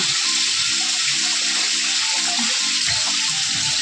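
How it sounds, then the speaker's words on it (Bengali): Water runs steadily from a kitchen tap in a Bengali home, a close, continuous rushing splash with slight gurgling variations throughout, no voices. "হ্যাঁ কলে জল আছে এখনও"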